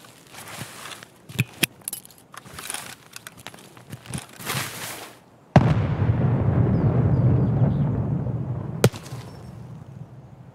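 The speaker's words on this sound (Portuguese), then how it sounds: "Deu um tiro do meu lado aqui, cara." A nearby gunshot in the video game Escape from Tarkov at the Customs map: scattered sharp cracks and clicks, then a heavy boom with a rumbling tail, followed by another sharp crack.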